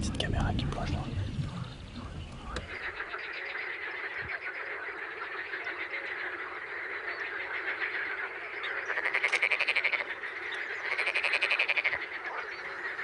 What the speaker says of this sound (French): les racines des nénuphars se glissent des millions de batraciens